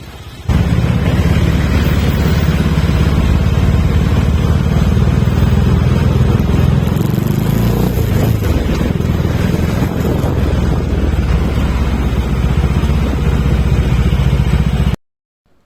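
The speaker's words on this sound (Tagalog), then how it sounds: "Tapos mababalahaw ka pa ng ganito sa traffic. Ayan, grabe, siksikan." A Kawasaki motorcycle with a rear brake caliper prone to locking rides through dense traffic, its engine drone and heavy wind rush forming a loud, continuous roar that runs nearly fifteen seconds before cutting off abruptly.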